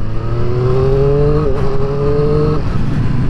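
A Triumph Street Triple RS motorcycle engine holds a steady, throaty exhaust note, rising slightly in pitch before dropping off, loud and close.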